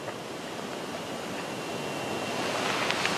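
Steady rushing wind roars outdoors, a broad continuous noise that swells slightly louder toward the end, with no voices.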